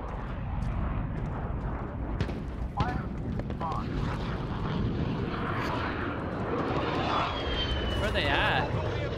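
An enemy VTOL aircraft flies overhead in a Call of Duty: Modern Warfare match, a sustained jet-engine roar mixed with gunfire and explosions, while players talk over it.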